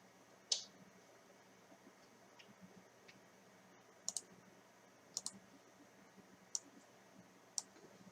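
Computer mouse clicks while navigating an email inbox: five or six sharp, faint, isolated clicks spaced a second or more apart over a quiet room hiss, with no talking.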